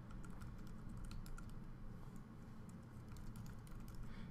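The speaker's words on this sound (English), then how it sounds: "typing here" Steady, fast typing on a computer keyboard during an iOS table view coding session, a dense run of close, crisp key clicks continuing throughout with no talk.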